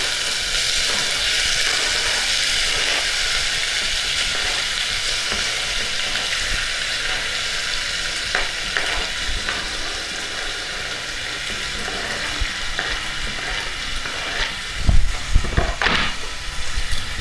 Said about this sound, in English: So once that's ready and warm, put in your steak.